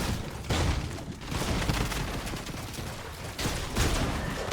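Video game gunfire sounds as a dense, continuous wash of shots and bursts, loud and close, lasting the whole stretch with no talk on top.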